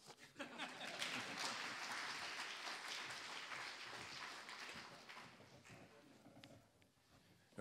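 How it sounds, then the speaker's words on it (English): Audience applause at the TCADP annual conference awards ceremony during a Courage Award presentation: a steady wash of clapping from a crowd, faint and distant, swelling briefly and then slowly thinning out over several seconds. "And you can applaud them."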